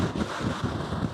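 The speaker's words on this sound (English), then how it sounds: "The wind is much worse than I had expected at this point in the day." Strong wind on the Cornwall coast buffets the microphone with steady, loud low rumbling and gusty roar throughout.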